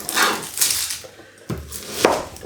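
A knife chops through an onion on a cutting board, topping and tailing it for a chicken casserole: four sharp, close knocks spaced about half a second apart, with no voices.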